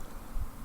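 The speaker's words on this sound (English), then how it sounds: "Oh, no, not the bees! Not the bees!" Bees buzz in Bean Valley in the Super Mario RPG video game, a brief steady low drone.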